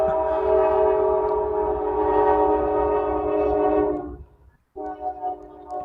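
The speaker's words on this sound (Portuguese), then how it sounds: "Olha o trem de novo." A fast train rushes past close by, its loud, steady horn-like tone and rumbling wheels holding for about four seconds before cutting off abruptly, then returning more faintly.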